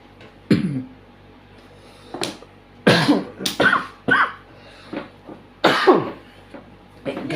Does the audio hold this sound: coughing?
yes